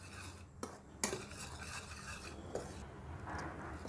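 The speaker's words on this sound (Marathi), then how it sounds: "हे सर्व मिश्रण मिक्स करून घ्यायचं" Chakali bhajani flour is stirred with turmeric and salt in a bowl, a quiet scraping and rubbing of a spoon against the dish with a few faint clinks.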